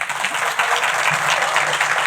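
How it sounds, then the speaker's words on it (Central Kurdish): Steady applause from a TV singing contest audience, dense clapping that continues evenly for a couple of seconds with no voices on top. "بە چەپڵە پێمان بڵێم بە چەپڵە"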